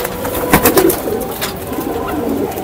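Pigeons at a home loft during a pigeon flying competition coo in a few low, soft bursts near the start, with scattered wing and background noise continuing faintly afterward.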